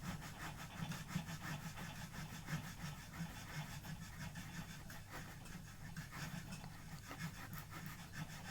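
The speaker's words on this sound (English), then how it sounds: "I also use the same one to cut the tenons on my necks." A small hand saw cuts the tenon on an acoustic guitar neck in quick, rhythmic back-and-forth strokes, fairly faint and steady throughout with no talking.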